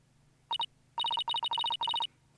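A cute electronic phone ringtone from the video game Phoenix Wright: Ace Attorney - Dual Destinies, playing as clear bursts of rapid repeated beeps: two short notes, then several quick runs of four or five beeps, alone and moderately loud.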